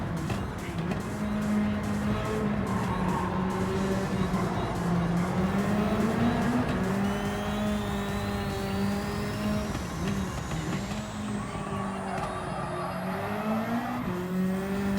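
Front-wheel drive touring-style race car in Gran Turismo 7, its engine droning steadily with shifting pitch as it revs through gears, joined by crackles and a rising whine, loud and continuous throughout.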